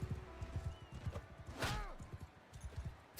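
Horse hooves clip-clop in rapid, galloping rhythm in the medieval combat game Mount & Blade, close and steady, with a brief whooshing clash and a short whinny partway through.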